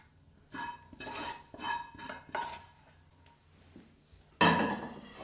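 A bowl is picked up and handled in a home kitchen while making mutton kola urundai, giving several close metallic clanks and scrapes of dishes and utensils, ending in a louder clatter.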